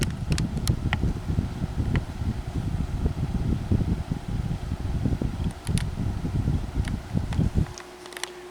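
A Galaxy 16-inch oscillating table fan running, giving a steady whooshing wind noise with a low rumble and a few faint clicks, close to the microphone, fading down near the end with no talking.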